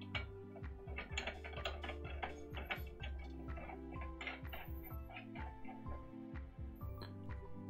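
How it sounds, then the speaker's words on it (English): A QuadCast adapter being screwed onto a microphone boom arm, producing a close, continuous run of fine ratcheting clicks and grinding threaded turns with a steady rhythm and no talking. "the next thing I'm going to do is pretty much screw on the quadcast adapter"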